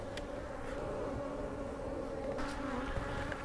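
Honey bees hum in a dense, steady drone around an open hive, a close and continuous buzz from a somewhat aggressive colony with no voices.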